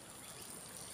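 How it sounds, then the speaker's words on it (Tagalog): Rainwater runs steadily through a vegetable garden just after heavy rain, a soft, even trickling and gurgling flow that is faint and continuous with no voices. "Umaagos po yan."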